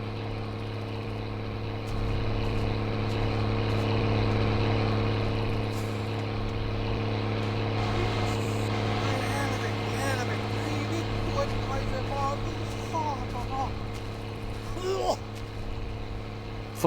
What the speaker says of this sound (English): listening to this engine noise for no reason.